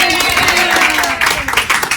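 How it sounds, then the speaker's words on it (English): An audience at a hula hooping demonstration claps in a brief burst that rises and tapers off, with talk mixed in. "Give a round of applause."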